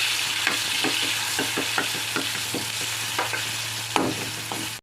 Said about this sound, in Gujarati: શાક કરવા તેલ ગરમ કરવા રાખી દીધું છે તેમાં આપણે નાખી દઈશું રાઈ જીરું થોડી હિંગ લસણ